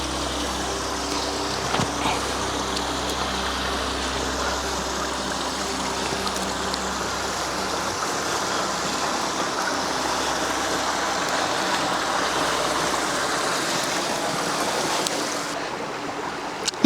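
A small creek on a property flows steadily, producing a continuous rushing, burbling wash of water that holds at an even level throughout, with no voices present.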